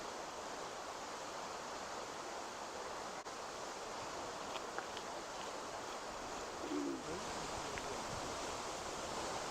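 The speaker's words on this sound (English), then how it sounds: "You can hear the noise of the water falling into the pool below." Steady broadband roar of a powerful, high waterfall with two streams plunging into a pool below, surrounded by lush vegetation in the Columbia River Gorge, Oregon; continuous and even throughout, with a faint brief voice near the end.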